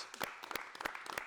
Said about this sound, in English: You guys some round of applause.